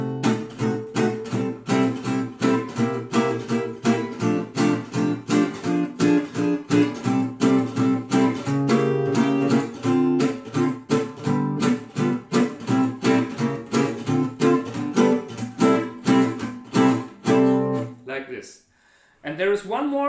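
Acoustic guitar runs through a 1930s-style blues chord progression, steady strummed chords in a swinging rhythm for most of the passage, ending on a turnaround with a brief pause and a final chord, close and clear.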